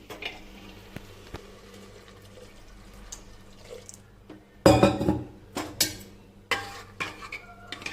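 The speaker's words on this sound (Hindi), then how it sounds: "तो अभी मैं अपना कुकर खोलती हूँ, और कुकर में देखो ये चावल ऐसे हो गए हैं।" A pressure cooker of cooked rice is opened and milk is poured in on a gas stove, giving a few close clattering metal knocks and splashy liquid bursts over low kitchen background noise.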